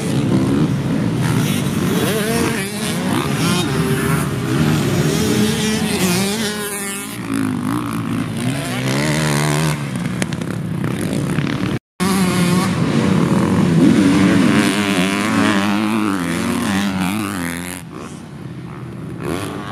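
Big motorcycles of all classes racing at a motorsports track event, engines droning and revving loudly at close range with rising and falling pitch as bikes pass, continuous throughout with a brief dropout near the middle.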